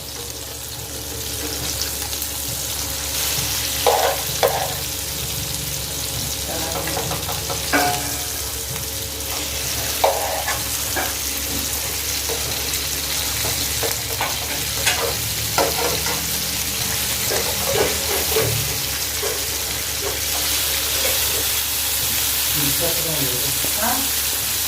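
Fish pieces fry in a pan of hot oil, Kerala style, with a steady close sizzle and crackle throughout, plus occasional clinks and stirring sounds. There is no talk.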